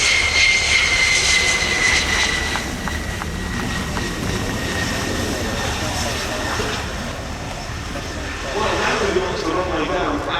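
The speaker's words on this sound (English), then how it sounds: "So touching down after a somewhat abbreviated but still very impressive demonstration of its quality." Boeing F-15QA Ababil fighter jet of the Qatar Emiri Air Force touching down at an air show, a steady loud broadband jet roar with a whining tone that holds throughout and swells again near the end.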